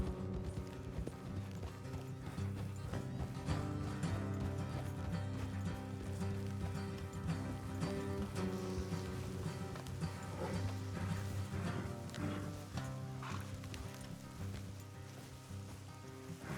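In the video game Red Dead Redemption 2, horses trot along a road with a steady, rhythmic clip-clop of hooves, moderately close, backed by a faint music bed and occasional brief in-game voices.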